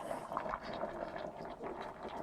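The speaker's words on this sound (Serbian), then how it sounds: "I još ćemo sada naliti vode." A glass of water poured over 350-400 grams of rice in a pot of beef đuveč, giving a steady, close splashing rush that lasts throughout without a break.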